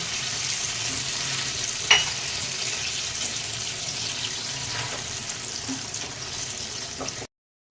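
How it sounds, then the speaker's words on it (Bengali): Water and a spoonful of lemon juice hit a hot tempering for Gujarati dhokla, giving a steady broadband sizzle throughout, with a brief sharp clink near two seconds, then sudden silence at the end. "এবার গ্যাসটা বন্ধ করে আমি জল দিয়ে দেবো অল্প আর এক চামচ মতন লেবুর রস দিয়ে দেবো"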